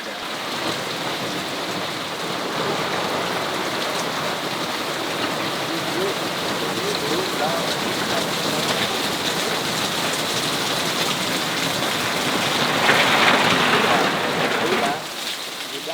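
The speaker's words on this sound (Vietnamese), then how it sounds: "mưa." Heavy rain pours down during a midnight storm, a dense, loud, continuous hiss of drops striking surfaces that stays steady throughout, with no voices standing out.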